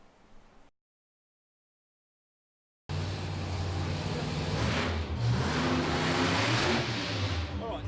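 A racing car engine revs and accelerates loudly and continuously after a short pause of silence, the roar surging and rising in pitch, with a brief burst of other sound before the gap.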